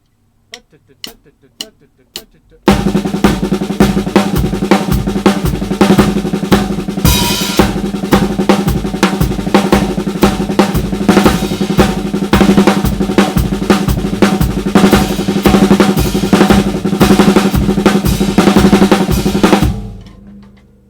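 Dense, rapid drum strokes rolling in steady repeating paradiddle-diddle triplet patterns, loud and close, after a few sparse opening hits; no talking.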